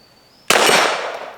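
One sharp, loud pistol shot cracks close by, its ring off a steel target about 15 feet away fading over the following second.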